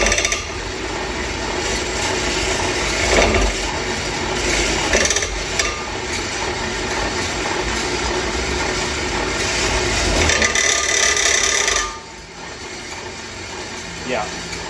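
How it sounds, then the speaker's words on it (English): A bandsaw grinds against a bent steel kart axle with a continuous rough, scraping buzz, rising and easing in intensity before dropping away toward the end, with a person talking over parts of it. "Using a bandsaw to attempt to cut this could be one of those bad decisions."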